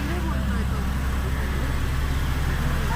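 A vehicle caught in heavy Mumbai rain traffic gives a constant low rumble and broad wash of road and rain noise. Voices talk loudly over it the whole time.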